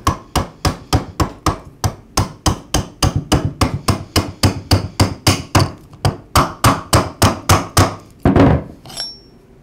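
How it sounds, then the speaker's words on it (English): A Ryobi string trimmer's retainer is tapped onto the shaft with a length of metal tubing, giving around two dozen sharp, evenly spaced metallic knocks at close range, followed by a couple of heavier strikes near the end. "I slide the tubing over the shaft and then tap the retainer into place"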